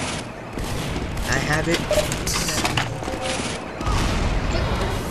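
Rapid gunfire from Team Fortress 2 weapons rattles continuously through a chaotic multiplayer match, dense and loud throughout, with a player talking over the shooting.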